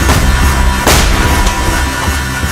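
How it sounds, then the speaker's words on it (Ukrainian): A single heavy gunshot booms out of a dense, loud film-trailer soundtrack, a sharp broadband bang with a rumbling tail layered over sustained music and effects. "Постріл!"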